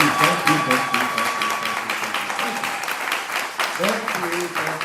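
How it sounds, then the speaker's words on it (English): An audience bursts into loud, sustained applause and cheering, with voices calling out over the clapping as it continues throughout. "There's a round of applause and there's a round of applause."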